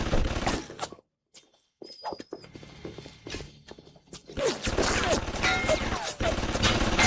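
Bursts of gunfire in the game Bioshock, sharp clustered shots broken by brief silences, then a denser spell of rapid firing and mechanical clatter toward the end.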